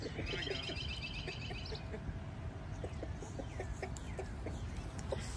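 Chickens cluck and chatter nearby over a steady background hum, with a few higher chirps scattered throughout.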